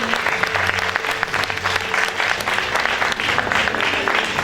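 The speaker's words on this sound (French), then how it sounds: "Applaudissements pour la 3e Dauphine, Leslie." Audience applause at the Miss Aisne 2020 beauty pageant results announcement: dense, steady clapping from a large crowd fills the whole stretch at even loudness.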